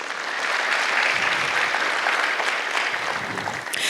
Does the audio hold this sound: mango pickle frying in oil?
no